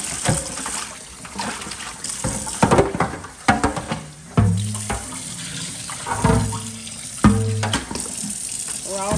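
Garden huckleberries being washed in a sink of water, with running tap water and splashing as the berries are swished and rinsed to remove sand, loud and close, in uneven bursts.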